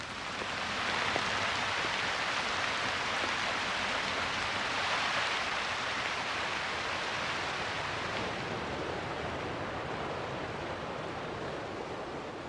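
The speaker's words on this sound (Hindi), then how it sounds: "टेक्सास में जब भी बारिश होती है, मूसलाधार ही होती है।" Torrential rain in Texas pours down in a constant dense hiss, a steady downpour drumming on surfaces without letup.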